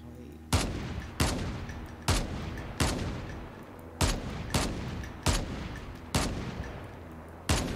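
Semi-automatic M21 rifle fire in Call of Duty Mobile battle royale: about ten loud, sharp single shots at a steady pace of roughly one every 0.7 seconds, each followed by a short echoing tail.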